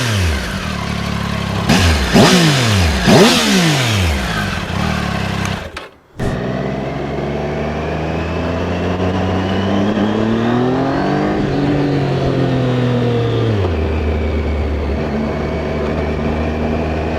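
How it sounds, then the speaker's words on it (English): A Triumph Tiger 800 motorcycle on its stock exhaust is revved several times, rising and falling in quick blips, then cuts off briefly before settling into a loud, steady drone with a slow swell and drop in pitch. "let's see what the stock exhaust sounds like first."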